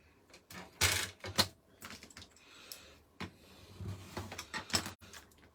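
A score blade is drawn along a paper board in a series of faint, close scraping and tapping strokes with short pauses between them.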